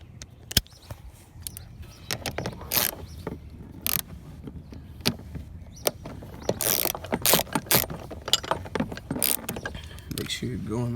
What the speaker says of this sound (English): we'll go ahead and use our ratchet to tighten it all the way.